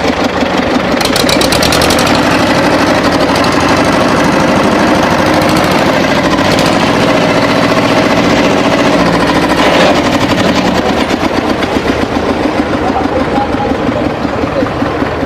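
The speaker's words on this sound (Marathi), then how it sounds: "आता आपण ट्रॅक्टर चालू केलं, एकदा तुम्हाला चालून पण दाखवतो." An old second-hand tractor's engine runs loud and close with a steady, rough, knocking chug throughout, its pitch rising slightly as it is revved.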